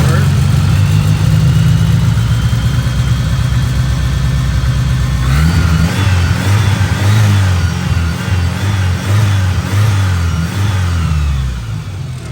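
A cold 1988 Starion engine fitted with a 3-inch turbo-back exhaust idles low and steady, then rises into a fuller, rumbling rev about halfway through, holding a loud, close drone to the end.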